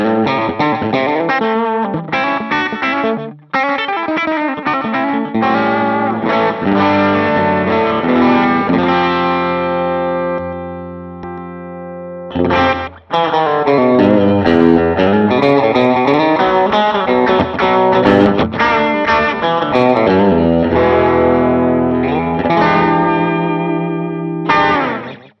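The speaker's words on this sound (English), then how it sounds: "We'll do some delay without reverb." Electric guitar through a Line 6 HX modeling rig with delay and no reverb, played continuously for about 25 seconds: dense chords and sliding lines with repeating echoes, one short pause near the start and a sustained fade around the middle, no talking.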